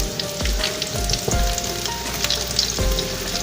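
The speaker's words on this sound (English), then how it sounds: "Let's lay it down in the skillet, guys. Ooh, look at it starting to fry already." Turkey wings frying in a skillet give off a steady, close crackling sizzle of hot oil, with a few louder pops and bursts as pieces settle, no talking over it.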